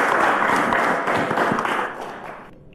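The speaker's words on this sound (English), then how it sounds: "A round of applause to them." A quiz show studio audience gives a round of applause, a dense, close burst of clapping that stays loud for about two seconds before tapering off and ending abruptly.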